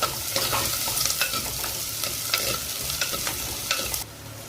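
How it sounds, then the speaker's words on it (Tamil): Onions sauté in a clay pot for a home-style fish curry, with a steady sizzle and repeated stirring scrapes close by, alone with no talk before the sound drops off near the end. "வெங்காயம் நல்லா வதங்கணும்"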